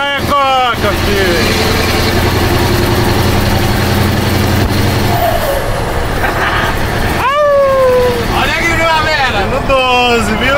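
A heavy truck engine idles and then drops a gear, giving a loud, steady low rumble that runs throughout. Air-brake style hisses and squeals come through at intervals, and people talk over it in Portuguese.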